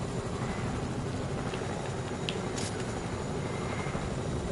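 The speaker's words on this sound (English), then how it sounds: "Oh, another helicopter." A helicopter flies in the video game Fortnite, giving a constant dense whirring rumble that holds steady throughout at a fairly low level.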